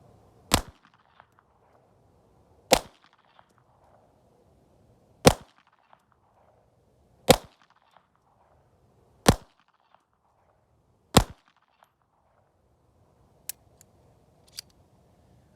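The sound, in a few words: Walther PPK .32 ACP pistol shots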